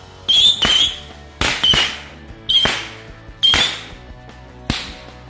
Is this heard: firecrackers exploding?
yes